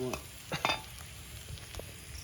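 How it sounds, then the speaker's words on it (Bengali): Mutton frying in a pan for a village-style curry, a faint steady sizzle with a few brisk stirring scrapes near the start, quiet and close with no voices. "আমাদের মাংস কষা হয়ে গেছে"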